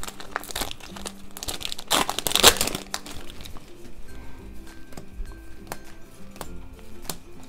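A Pokemon booster pack wrapper is torn open, giving bursts of foil crinkling and a sharp tearing rip near the middle, then scattered lighter crackles and handling noises. It is close and fairly loud, with no talking.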